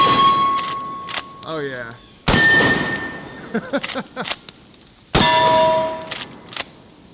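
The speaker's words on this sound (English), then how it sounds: "All right, we'll just hit our steel targets." Gunshots ring out against steel targets at an outdoor range, each sharp report followed by a bright metallic clang and ding; several hits spaced seconds apart, with a brief spoken exclamation between them.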